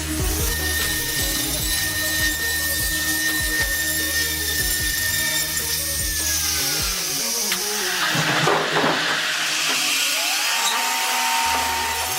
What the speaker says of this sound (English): This machine is a valuable asset for any sawmill seeking to optimize efficiency and streamline workflow.